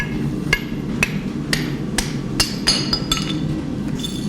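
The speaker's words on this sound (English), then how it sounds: "hammer it on out to shape" Sharp metallic hammer strikes on hot steel ring out at a steady rhythm, about one every half second, over a low rumbling background, as a tomahawk head is forged.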